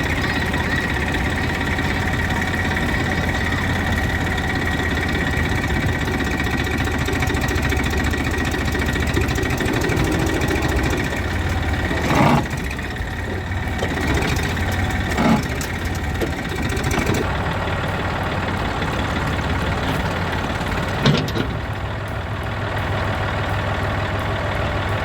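A tractor engine idles near a tree stump in a village, a steady low rumble running throughout with a few brief sharper knocks and clatters over it, no talking.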